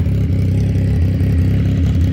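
A CFMOTO 675NK motorcycle engine runs close by in a rhythmic, throbbing idle with repeated small revs, a steady mid-pitched mechanical pulse with light clatter.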